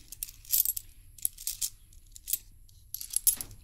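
Coins clink and jingle as change is handled at a small shop in the morning, bursts of close, bright metallic rattling separated by short quiet gaps.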